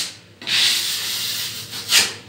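A filling knife spreads plaster filler across a wall being prepared for painting, giving a close, scraping swish in two long strokes, loud and alone.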